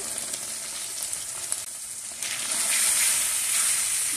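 Turmeric powder and salt being stirred through frying green chilies and oil in a pan, a steady sizzle that swells louder and brighter in the second half, with soft scraping strokes and no voices.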